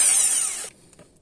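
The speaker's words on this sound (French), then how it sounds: "je vais venir percer un petit trou en fait dedans pour pouvoir le sortir" A power drill boring a small hole into a metal part during a Peugeot 106 Roland Garros restoration, a loud high whine running for well over half a second, then stopping abruptly into quiet with a faint clink.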